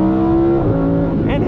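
The naturally aspirated V10 of a Lamborghini Huracan Sterrato pulls hard and loud, its engine note rising steadily and filling the whole moment, with a brief higher squeal near the end.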